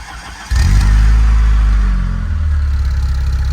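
Saab 9000 with a B234 engine revving up at a Saab owners' convention, a deep loud engine note that swells abruptly and holds steady before easing slightly, with no talk over it.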